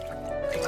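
Water drips and trickles into a toy bathtub, a brief, close liquid patter with a steady faint tone underneath.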